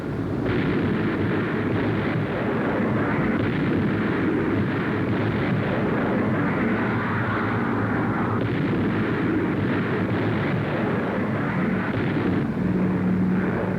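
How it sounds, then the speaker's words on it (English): 500-pound demolition bombs bursting on a Nazi airfield in Holland in 1944, heard as a loud, unbroken roar of heavy rumbling that runs throughout with no break or pause. "500-pound demolition bombs landing directly on the target."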